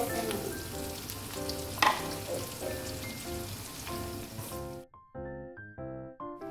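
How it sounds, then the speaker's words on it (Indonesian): Shallots and garlic sauté in a pan with a steady, close sizzle and occasional stirring for about five seconds, then music takes over. "Bun Ai mau tumis si bawang merah, bawang putih untuk masak hari ini"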